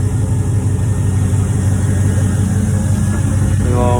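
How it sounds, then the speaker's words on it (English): A Chevrolet Silverado with a stock 6.0-litre LQ4 V8 and an aftermarket cam idles after a cold start, a loud, steady, deep rumble that continues without a break. "That's a cold start."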